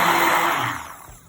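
A hand blender whirs steadily through cold-process soap paste, a dense broadband motor buzz that holds loud and then gradually fades as it winds down.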